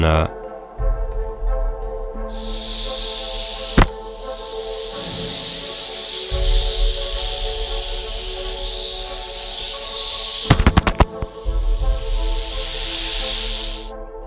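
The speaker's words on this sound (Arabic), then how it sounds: "عدد هائل من الأفاعي الجرسية تجتمع متكدسة في مكان واحد" A large mass of rattlesnakes piled together in one spot gives off long, loud, continuous hissing and buzzing rattles, swelling and fading over several stretches, with a few sharp knocks midway and a low rumble beneath.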